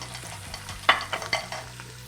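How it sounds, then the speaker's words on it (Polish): Beef browning in a frying pan for a braise with mushroom sauce, with a steady low sizzle under a few brief scraping stirs; close up, no talking. "Ono musi się zrumienić. Podsmażał będę na dwa razy."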